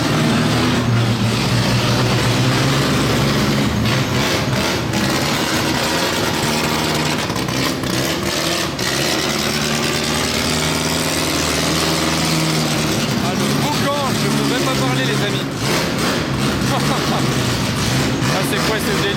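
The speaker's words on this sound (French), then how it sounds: "Ah le bruit, ah, Maserati MC20 là-bas au fond." A Maserati MC20 engine roars from the far end of a Swiss garage, a loud, sustained mechanical rumble that carries on for the whole stretch while someone talks over it.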